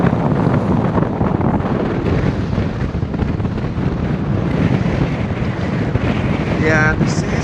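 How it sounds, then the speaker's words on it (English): A sailboat motors under engine through waves and strong wind, with constant heavy wind buffeting and rushing water noise throughout, loud and close, and a brief chirping sound near the end. "And I'm going with the engine, and we're slowing down because the waves are pushing us."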